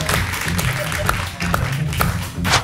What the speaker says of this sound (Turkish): Hanımefendiyi alkışlıyoruz.